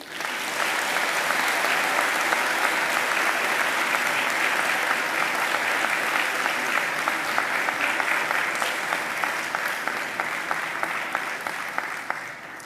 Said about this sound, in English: give those people in the audience who have supported you to come so far a mighty round of applause